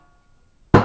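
A single sharp drum stroke lands near the end after near silence, a resonant hand hit with a quick decaying tail.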